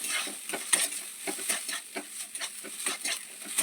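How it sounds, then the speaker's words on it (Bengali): Chili paste frying in a pan for aloo paratha filling, a soft steady sizzle broken by repeated light scraping stirs, close and fairly quiet with no voices. "লঙ্কা পেস্টটা এখন দিয়ে দিলাম। এরপর ভালো করে ভাজবে।"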